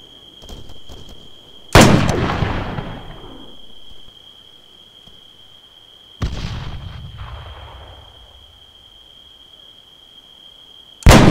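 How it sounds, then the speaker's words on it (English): Enemy gunfire in the military shooter Arma 3 sounds as three loud, separate shots a few seconds apart, each with a booming report and a long rumbling echo that fades away. "Running into enemy fire."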